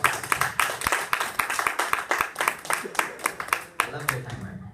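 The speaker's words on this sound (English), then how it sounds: "give everybody a round of applause" A small group at a Toastmasters meeting gives a round of applause, distinct close-up claps in a quick uneven rhythm under some talk, tapering off at the end.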